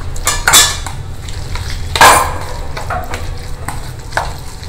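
Finely chopped vegetables and butter mixed in a bowl for rava toast, loud close spoon scrapes and metallic clinks against the vessel at irregular intervals, without speech.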